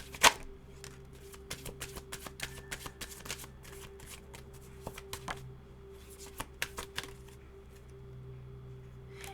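Cards being shuffled and drawn for a reading, a steady soft riffle broken by a string of sharp slaps and flicks as cards are set down, close and fairly quiet with no talking.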